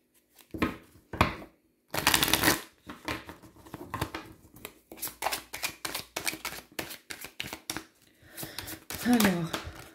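Tarot cards are shuffled and handled by hand in a series of quick riffles, flicks and slaps, some louder bursts among lighter taps. Someone speaks briefly over the cards.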